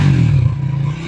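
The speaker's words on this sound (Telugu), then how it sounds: "అండ్ ఒక్కసారి మీకు రవ్విస్తాను." A 2026 Triumph Tracker motorcycle engine revs up close, a loud low rumbling throb that rises briefly and then eases back, with no voices.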